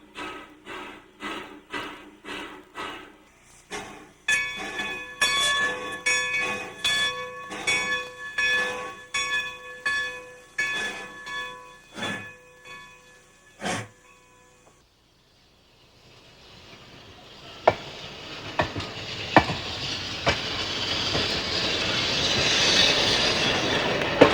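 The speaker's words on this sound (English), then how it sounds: "the train begins to back up onto the old siding" Rhythmic clanking and ringing metallic knocks of a train moving slowly while backing onto an old siding, a pause, then rising rumble with sharp bangs and hiss as cars roll.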